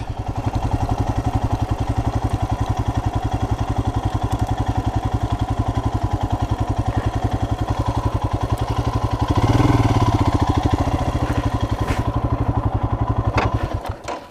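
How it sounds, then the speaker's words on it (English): A Royal Enfield Himalayan motorcycle engine runs steadily at close range, its single-cylinder thump pulsing evenly throughout. It swells briefly louder near the middle, then cuts off at the very end. "All right, let's turn off the bike."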